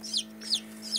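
Three newly hatched chicks, a day out of their eggs, chirp inside a box: three sharp, high descending peeps spaced about half a second apart, close and clear over a steady low electrical hum.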